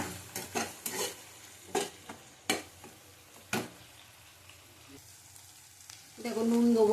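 Spices with Kashmiri chilli powder being stir-fried for a rohu fish curry, a spatula scraping the pan in several sharp strokes over a soft sizzle, then a louder, steadier frying hiss near the end.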